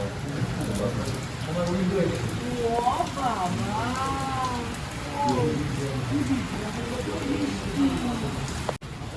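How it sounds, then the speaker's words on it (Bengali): Steady heavy rain hisses throughout while people talk over it. "বিভৎস জোরে বৃষ্টি হচ্ছে"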